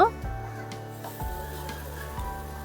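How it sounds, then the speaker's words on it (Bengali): A rolled sabudana (tapioca pearl) roti dries on a non-stick tawa without oil, giving a soft, steady sizzle with a few light scraping bumps, close and low in level with no talk. "নন স্টিকের একটা তাওয়া নিয়ে নিয়েছি, এই তাওয়ার মধ্যে এখন ভেজে নেব"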